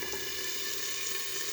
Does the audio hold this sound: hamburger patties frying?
yes